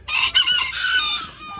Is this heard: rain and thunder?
no